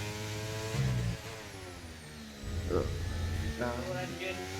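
A Formula 1 car engine in a racing video game set at Spain, a high buzzing whine that climbs and drops as the revs change and holds steady under a low background murmur.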